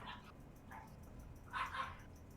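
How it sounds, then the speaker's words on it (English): A dog barks in the distance, a few faint yips spaced apart and a closer pair of barks near the end, soft against a quiet background. "Do you hear that? Yes, I hear the dog."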